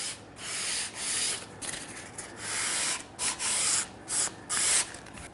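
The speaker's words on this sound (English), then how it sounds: "I'll sand out the inside face" Sandpaper rubs along the edge of a wooden stool in irregular strokes of varying length. The scratchy hiss starts and stops, comes up close and fairly loud, and has no speech over it.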